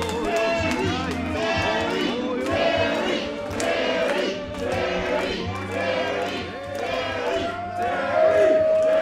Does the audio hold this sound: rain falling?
no